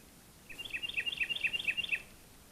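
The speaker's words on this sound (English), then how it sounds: "I love the birds too." A single bird by a lake sings a quick trilling phrase of repeated high chirps lasting about a second and a half, moderately close over a quiet background, with no talking.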